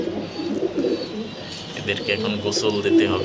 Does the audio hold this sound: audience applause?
no